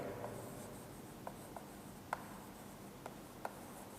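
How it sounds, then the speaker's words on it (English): Writing during a chemistry lesson on complex nomenclature, faint taps and light strokes of a pen or marker in a quiet room, with no voice. "Let me write that."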